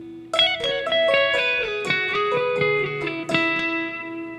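A solo electric guitar runs through a lick, a steady string of picked notes and slides settling onto a sustained final note that rings out.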